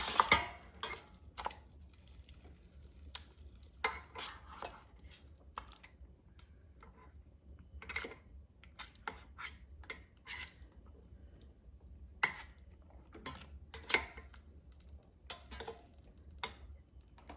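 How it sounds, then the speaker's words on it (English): Frozen ravioli is stirred in an air fryer basket, producing faint, sparse clicks and light scrapes at an irregular pace against quiet background noise. "let's take out the air fryer basket, and I'm just going to mix ravioli so it cooks evenly"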